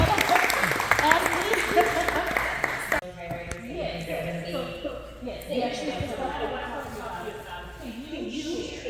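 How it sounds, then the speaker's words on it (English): Audience applause at a Texas voting rights gathering, clapping for about three seconds that then drops away, followed by lighter scattered claps and background chatter. "Everybody give yourself a round of applause for yourselves and each other."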